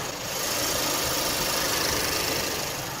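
Close-up idle of a 2017 Renault Samsung SM6 2.0 gasoline engine with the hood open: a steady, smooth hum with fine rapid ticking and a constant level throughout, no voices.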